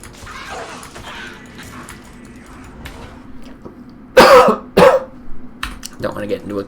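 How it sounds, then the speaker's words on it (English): A male player clears his throat and coughs twice, close and loud, in quick succession; he talks quietly beforehand, with a Diablo 2 Resurrected game session running faintly underneath. "Don't want to get into a coughing fit and die."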